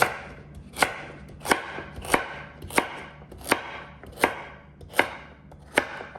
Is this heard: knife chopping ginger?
yes